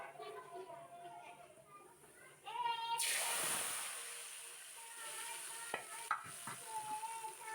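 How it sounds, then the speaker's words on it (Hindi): Sudden loud sizzle as a hot oil tempering is poured into kadhi curry, hissing strongly then fading over several seconds, with talking before and after. "तड़का हमारा तैयार है, हम डाल देते हैं"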